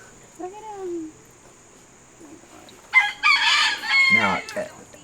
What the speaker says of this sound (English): The roosters aren't helping either, Kevin